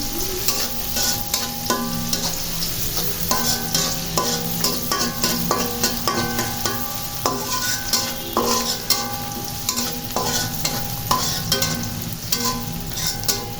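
Onion and garlic fry in oil as a baghar tempering for beef nehari, a loud, continuous close sizzle broken by regular scraping strokes of a spoon stirring in the pan.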